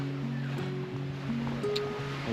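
Sea waves washing steadily at a beach in Romblon during high tide and rain, a continuous rushing wash with a faint steady hum running beneath it.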